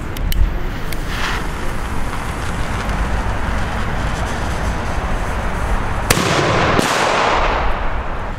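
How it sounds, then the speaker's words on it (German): A purple Kanonenschlag firecracker blasts loudly up close, its roar carrying on as a dense crackling wash with a few sharp bangs and a final bright burst near the end. No one talks. "Jetzt kommt der lila Kanonenschlag."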